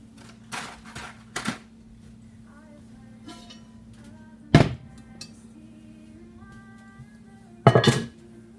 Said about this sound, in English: Got another cast iron skillet I'm going to place on this eye